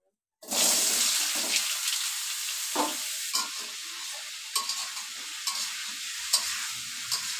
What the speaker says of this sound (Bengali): বাঙ্গি ভেজে নেব, আলু ভাজার পরে যে তেল আছে ওই তেলে